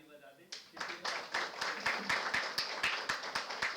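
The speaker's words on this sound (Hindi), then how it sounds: "मैं चाहता हूँ मेरे सभी दोस्त एक बार सर के लिए ताली बजा दें" Audience applause for a presenter at a research methodology course session, a steady run of many hands clapping close by, rhythmic and sustained for several seconds.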